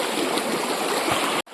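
A river in Arunachal Pradesh flowing, a loud continuous rushing of water close by, broad and steady, cutting off abruptly near the end.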